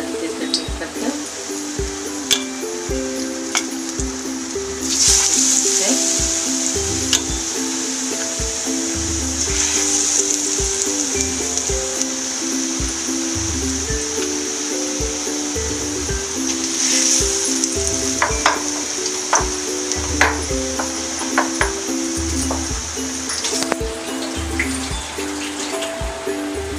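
Spinach pakoras fry in hot oil with a loud, steady sizzle and bubbling, broken up by clinks and scrapes of a utensil turning them in the pan.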